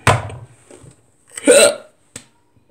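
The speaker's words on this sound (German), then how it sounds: "Jetzt habe ich noch einen Schluck auf" A person hiccups during a gaming session of Alien Isolation. A breathy vocal sound comes first, then a loud throaty hiccup and a brief clipped one after it, with quiet gaps between.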